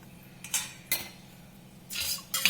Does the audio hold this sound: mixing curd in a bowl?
yes